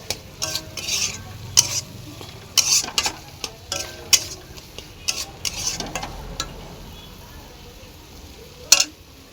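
Spice paste frying in a pan while being stirred, with repeated scraping strokes of a utensil over a low, steady sizzle, close and fairly loud, with brief faint voice sounds in between.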